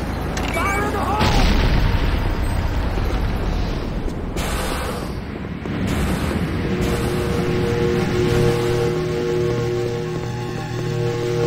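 A C4 charge detonates in the Renegade video game with a loud, booming blast that rolls into a long crackling rumble. A voice speaks faintly beneath it.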